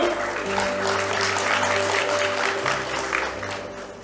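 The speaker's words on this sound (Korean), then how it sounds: "박수!" Audience applause at a Korean War 73rd anniversary commemoration ceremony in Daegu, steady clapping over a sustained low hum of the venue's sound system.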